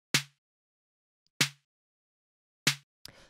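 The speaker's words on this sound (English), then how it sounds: "and then this 808 snare" An 808 snare drum sample strikes three times at an even, slow pace, each hit a crisp snap with a short low tonal ring that decays quickly. It sounds alone in silence, followed by a brief rough noise at the end.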